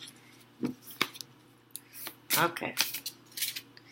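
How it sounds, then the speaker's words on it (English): A deck of tarot cards is shuffled by hand in quick papery riffles and flicks, close and crisp, with a brief spoken word among them. "This is just basic shuffling."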